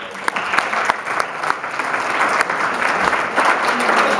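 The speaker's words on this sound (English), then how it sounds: "please give another warm round of applause for our panelists" Warm round of applause from a conference audience for a panel at CPAC 2013, loud, dense clapping filling the room and continuing steadily throughout, with faint crowd murmur mixed in.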